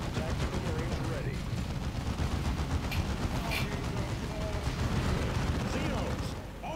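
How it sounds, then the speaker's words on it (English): Dense, continuous gunfire and explosions fill a Warhammer 40,000 Dawn of War II battle, with rapid overlapping shots and booming impacts throughout at a steady, loud level. "Tactical squad, return fire."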